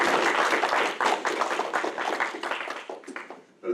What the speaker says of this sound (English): Let's have a nice round of applause for these folks up here.